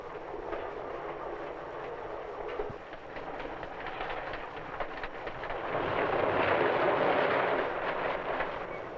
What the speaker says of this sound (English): the train speeds toward the sunset